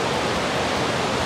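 Water pours and rushes steadily as a waterfall at a high spot near the town of Zacazonapan, a dense continuous roar with no break.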